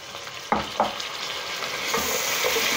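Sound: onions frying and being stirred in a pot

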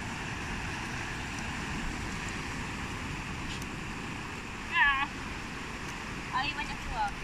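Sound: ocean waves breaking on a beach

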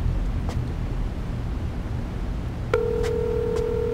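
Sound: telephone ringing

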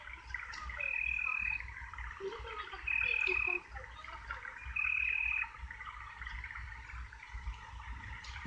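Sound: frogs croaking in a video game

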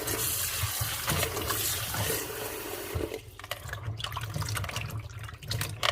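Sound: washing cherries under running water

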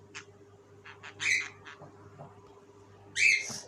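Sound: parrot squawking

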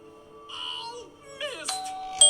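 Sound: doorbell ringing

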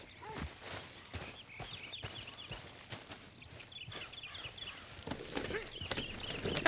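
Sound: horse walking in Red Dead Redemption 2 video game

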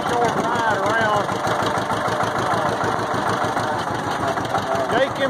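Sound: vehicle engine running

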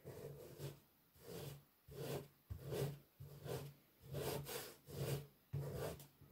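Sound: rubbing paper off a wooden surface

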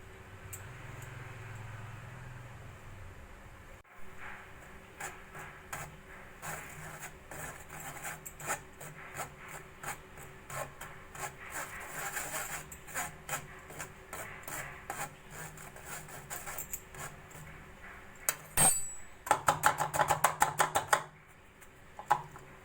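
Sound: sifting gram flour and rice flour through a sieve

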